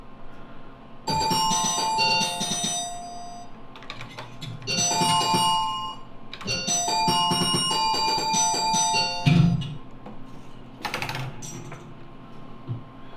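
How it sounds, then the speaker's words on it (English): Reproduced chimes from an old-style table on a home-built Visual Pinball cabinet ring out in bright, bell-like bursts, repeated in clusters over several seconds with short gaps and a few rattling mechanical thumps. "the chimes that are in this are reproduced brilliantly"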